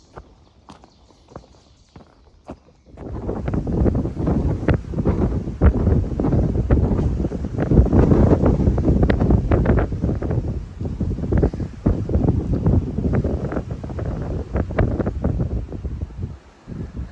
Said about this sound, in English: It's a little windy here at Black Rock Overlook.